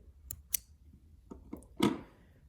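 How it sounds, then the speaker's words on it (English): Scissors snip a short tail thread on beadwork, a few sharp, quiet clicks spaced irregularly, with one fuller crisp snip near the end and nothing else around them. "I'll pull this through and trim this short tail thread"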